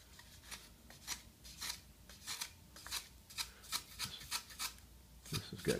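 A hand plane shapes a wooden rudder rib in rhythmic strokes, each a quick rasping scrape, about a dozen evenly spaced passes, close and fairly quiet with no talk.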